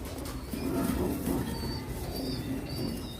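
Silky Lakka pigeons, a master pair kept in a cage, give soft low cooing in a steady murmur, close by and continuous, with faint higher chirps in the background.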